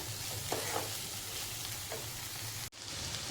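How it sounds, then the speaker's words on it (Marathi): Matki sprouts sauté in a spice masala, producing a dense, steady sizzle up close with faint stirring scrapes and a brief dropout near the end. "आपली मटकी व्यवस्थित मसाल्यात परतून झालेली आहे"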